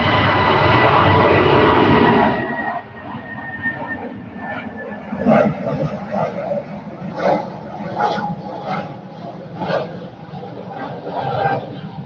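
Lufthansa Airbus A320 at Manchester Airport, a loud engine roar that cuts off abruptly, then a fainter, rumbling background with intermittent clatter and faint voices.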